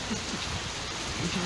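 A hailstorm mixed with heavy rain beats down in a steady, dense hiss of close impacts, with faint voices briefly surfacing beneath the downpour.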